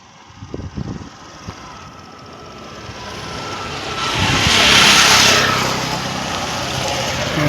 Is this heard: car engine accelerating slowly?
yes